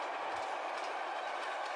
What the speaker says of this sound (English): Through the countryside chugs the powerful freight train.